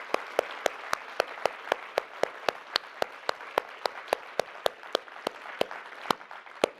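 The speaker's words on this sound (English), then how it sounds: "I'm going to have a huge round of applause." At the closing of a DARPA Forward event, hands clap in a steady, evenly spaced rhythm of sharp claps for several seconds.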